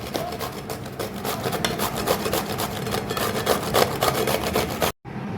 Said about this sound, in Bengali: প্রথমে আমি এই যে কদুকসটা নিচ্ছি, এর মধ্যে আমি এটাকে ঘষে পুরো চিড়ে চিড়ে করে নিচ্ছি।